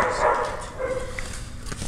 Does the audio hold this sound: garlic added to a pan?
no